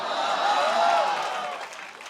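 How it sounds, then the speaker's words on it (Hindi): An audience claps at a Hindi stage comedy show, a brief wash of applause that swells and then fades toward the end. "और ताली गलत जगह बजाई आपने"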